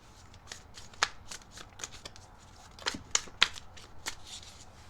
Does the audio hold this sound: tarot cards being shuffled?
yes